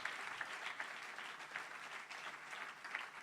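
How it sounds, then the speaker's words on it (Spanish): A church congregation claps together in a burst of steady, close applause lasting a few seconds, dense and even without cheering. "Dale otro aplauso al Señor."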